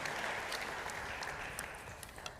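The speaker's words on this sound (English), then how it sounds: "So if you will, give a round of applause for Bonnie Dobbs." A steady wash of applause from a crowd, clapping evenly throughout and fading slightly toward the end.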